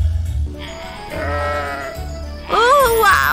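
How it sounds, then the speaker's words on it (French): A cartoon sheep bleats in a wavering, nasal call near the end, after soft tonal music with a faint voice underneath. "tu es le plus joli mouton que je n'ai jamais vu."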